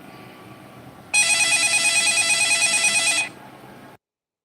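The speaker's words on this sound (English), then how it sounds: "my phone is ringing" A phone rings with a steady electronic trill lasting about two seconds, clear and fairly close, then stops.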